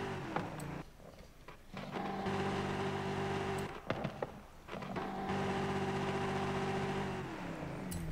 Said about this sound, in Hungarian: Meghallgatjuk a motor hangját.